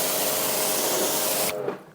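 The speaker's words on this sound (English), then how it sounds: "So if we spray again here," A ceramic coating wash sprayed onto a car door in a long, loud continuous hiss that cuts off abruptly, followed by a brief faint trickle.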